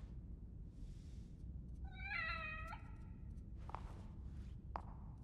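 A pet cat gives one clear, close meow rising then falling, set against quiet room noise, followed by a couple of soft thumps or footsteps.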